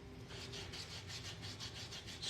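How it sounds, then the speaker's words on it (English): A coin ring is rubbed with a fingernail buffing block used as a sanding block. Quick, rhythmic back-and-forth scratchy strokes repeat evenly and close up, soft and with no talking. "So now I'm going to take a little sanding block. It's actually a fingernail buffing block"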